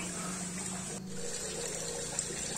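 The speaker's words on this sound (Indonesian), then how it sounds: "Yang tadi udah kita aduk-aduk di ember, kita saring menggunakan kain polos." Cassava starch water strains through plain cloth into a bucket while making tapioca, a steady close trickling and flowing wash of liquid with no pauses.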